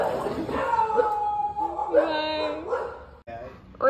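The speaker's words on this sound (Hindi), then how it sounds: "वो यहाँ कुत्ते आ गए ना मिलने" Dogs barking and yipping close by in short bursts, with a whimpering, whiny quality, mixed with people talking over them.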